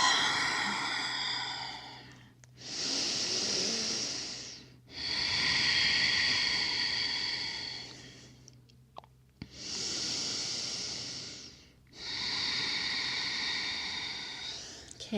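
Slow, deep yoga breathing is heard close up: four long, airy breaths separated by quiet pauses, with faint background hum and no talk.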